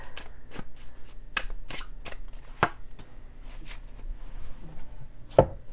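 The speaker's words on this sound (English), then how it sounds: "I am pulling one card out of a different deck." Tarot cards shuffled by hand and one drawn from a separate Chinese deck, a run of crisp riffling flicks and soft slaps close up, ending in a sharper snap, with no talking.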